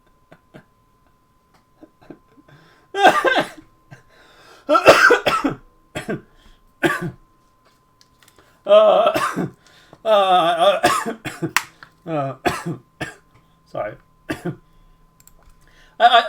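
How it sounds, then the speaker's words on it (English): A person coughs in several short bursts brought on by laughing, with brief speech between the coughs in a quiet room. "making me laugh so much that I'm starting to cough"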